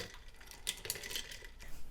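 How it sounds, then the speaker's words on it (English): A spoon stirs a milky breakfast mixture in a bowl, giving a couple of seconds of light scraping and clinking against the sides. "now we're gonna give that a good stir."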